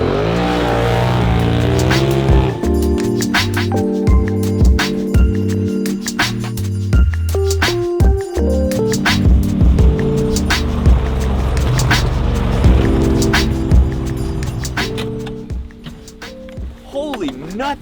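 A Polaris RZR side-by-side drives off along an ATV trail toward a lake, its engine a steady, loud drone with bumps and rattles, while people talk over it.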